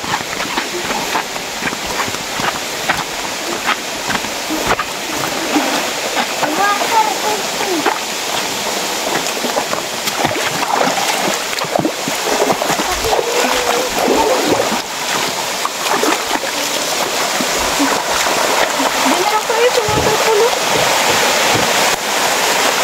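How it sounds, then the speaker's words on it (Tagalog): Kawa Kawa Falls roars in a broad, continuous rushing wash of water close by, with people talking and calling out faintly over the steady torrent. "Ito na guys, ang talon."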